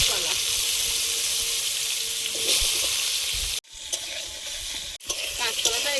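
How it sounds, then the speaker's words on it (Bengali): Raw green banana frying in a pan, a loud, close, continuous sizzle with stirring scrapes, broken by two brief pauses. "কাঁচকলাটা একটু ভালো করে ভেজে নেব যাতে কষ্ট না থাকে"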